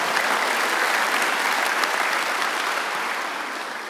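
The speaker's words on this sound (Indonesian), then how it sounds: "Tepuk tangan bagi Tuhan." A church congregation applauds during a worship service, a steady dense clapping that holds for several seconds and then slowly tapers off.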